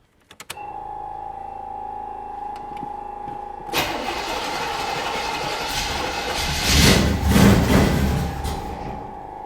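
An old two-stroke car engine, freshly fed two-stroke oil and gas after years sitting, cranks and fires into a loud, steady close-up idle with rough blips of revving near the end.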